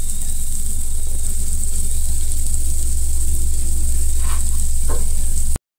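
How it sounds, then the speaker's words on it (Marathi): Chopped cabbage sizzling in a hot pan for fried rice made from leftover rice, a loud continuous hiss with a low background rumble and a few light stirring touches, cutting off abruptly at the end. "आता आपण कोबी कापलेला घालून घेऊया।"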